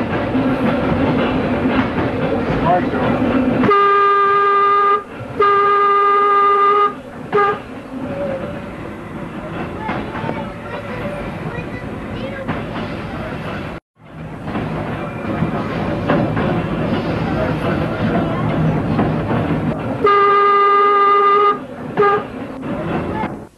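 A trolley car rolls along rails beside a country road near East Troy, with steady rumbling and clatter, while a loud horn sounds in repeated blasts near the start and again near the end.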